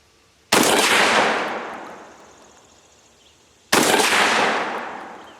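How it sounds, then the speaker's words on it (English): Two loud gunshots from an SDS Titan semi-automatic 12 gauge shotgun fired at about 12 yards, each a sharp blast followed by a long decaying outdoor echo, roughly three seconds apart. "we're going to do the shooting, I'd say 10, 12 yards, 12 yards"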